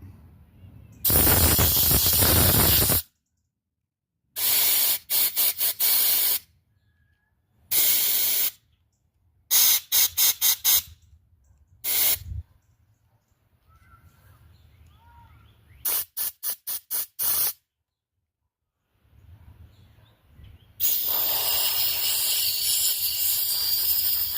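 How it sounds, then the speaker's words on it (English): Compressed air from an air compressor blasts onto the carburetor of a Murray 30-inch riding mower in loud hissing bursts, some long and some short rapid spurts, separated by silent gaps. "I'm going to blow some air in these spots"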